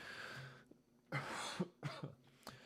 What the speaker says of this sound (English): Did not mean to cough.